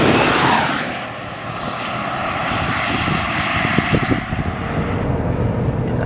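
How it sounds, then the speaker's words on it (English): A Ford F-150 PowerBoost hybrid pickup accelerates hard in a 0 to 60 run, a steady roaring rush of engine and road noise that swells, holds, then eases off after a few seconds. "let's go ahead and do some draggy 0 to 60 testing while the truck is still in its mostly"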